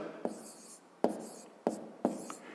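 Pen or chalk writes numbers during a math exercise, giving scratchy strokes in short bursts, each opening with a sharp tap, about four in a row, close and fairly quiet.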